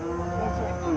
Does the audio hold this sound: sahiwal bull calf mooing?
yes